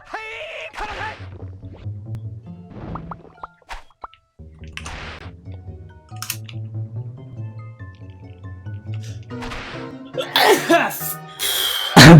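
A single sharp sneeze near the end of a gaming live stream, loud and close, following stretches of voiced talk and tonal game sounds.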